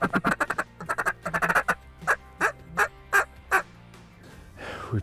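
A hen duck sitting out on the ice during a late-season Wyoming duck hunt quacks loudly and close, first in quick clustered bursts and then in about five slower, evenly spaced calls, with no talk over it.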